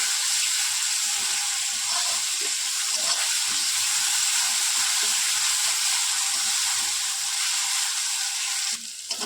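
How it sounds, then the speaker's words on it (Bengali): Ginger garlic paste with onions for chana chicken frying in a pan, giving a steady, bright, hissing sizzle that runs without a break and then cuts off abruptly near the end, no voices. "পেঁয়াজের মধ্যে ভালো করে কষে নেব যাতে আদা রসুনের গন্ধটা চলে যায়"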